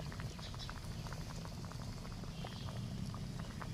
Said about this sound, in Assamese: ইফালে চাওকচোন দাইলখিনি খুব ধুনীয়াকৈ উতলি আছে